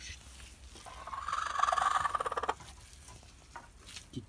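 A hen clucks in a quiet backyard, a short run of murmuring clucks that swells for about a second before fading, with faint rustling around it.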